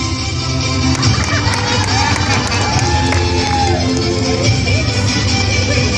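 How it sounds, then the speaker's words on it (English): A crowd at a swimming competition awards ceremony for the Al-Ain region claps and cheers for the adult division winners, with shouts and whoops over dense steady applause. "Let's give them a warm round of applause, guys"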